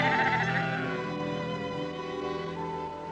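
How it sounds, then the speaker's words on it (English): Sheep bleating in a drought-stricken desert setting: one long, wavering, harmonic cry sustained for about three seconds, close and clear. "the sheep cried again"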